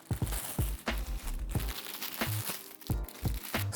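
A plastic AliExpress parcel package crinkles and crunches as it is opened by hand, in quick irregular bursts of rustling close to the microphone.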